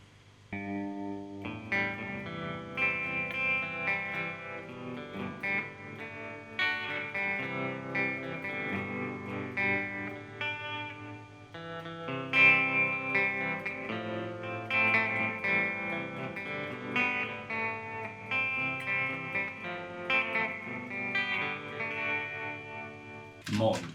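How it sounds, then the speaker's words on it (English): An electric guitar through an EHX Oceans 11 reverb pedal on its tremolo setting plays sustained chords and melodic notes with a pulsing, wavering volume effect and a wash of reverb, steady and close. "Tremolo."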